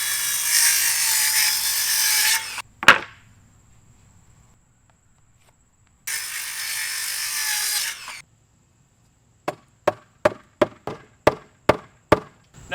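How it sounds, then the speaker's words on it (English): Power saw cutting wooden deck boards for stair treads outdoors: two loud high-pitched cutting bursts of about two seconds each with a quiet gap between, followed by a series of sharp rhythmic knocks. "Now I'm going to cut deck boards as the treads"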